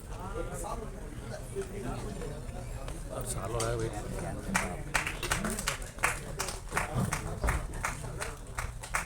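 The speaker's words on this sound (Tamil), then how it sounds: "ஒரு பெரிய கைத்தட்டல் கொடுத்துடலாம்." Applause at a film trailer and audio launch event, with scattered claps growing into a denser burst of hands in the second half, heard beneath continuous talk and crowd noise.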